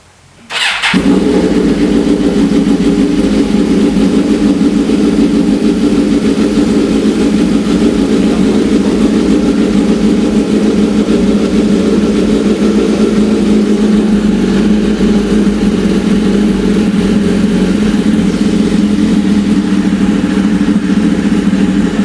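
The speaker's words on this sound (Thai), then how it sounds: "มาฟังเสียงกันนี่เครื่องเย็นยังไม่ได้ติดเครื่องเลยนะครับ" A Suzuki GSX-R 1000 K6 motorcycle with a new fuel pump is started from cold. The engine catches with a brief crank, then settles into a loud, steady idle that stays close and continuous throughout.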